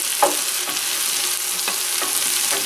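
Onions sizzling steadily in a hot pan for a Hungarian potato pasta dish, with a utensil scraping and stirring through them at intervals of roughly half a second, loud and close with no talking.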